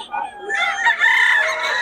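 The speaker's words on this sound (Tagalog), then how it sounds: "Mga manok ni Boss, ni Jun." A single close rooster crow, rising and then holding, clear and fairly loud against a quiet background.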